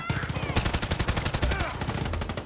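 Heavy automatic gun fire in Far Cry 6, a rapid rhythmic burst of shots hammering steadily throughout, loud and close, with players talking over it.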